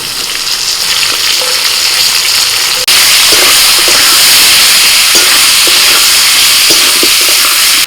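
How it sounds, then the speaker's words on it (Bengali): Potatoes with salt and turmeric frying in a pan, then chopped onion added, giving a loud steady sizzle that jumps up in intensity partway through, with faint stirring clinks over the continuous hiss. "দু মিনিট আলুটা ভেজে নিয়ে দিয়ে দিচ্ছি পেঁয়াজ কুচি"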